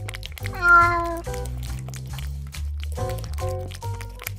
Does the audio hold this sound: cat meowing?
yes